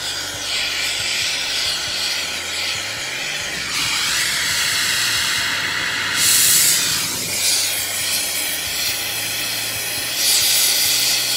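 A torch flame roars and hisses steadily while melting silver with boric acid flux for alloying, with the hiss swelling and shifting in a few surges, close and continuous, no voices.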